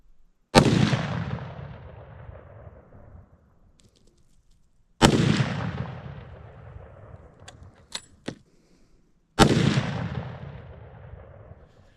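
Three loud rifle shots during a November mule deer hunt, each a sharp blast with a long echoing tail across open country, spaced about four to five seconds apart, with faint small clinks between them.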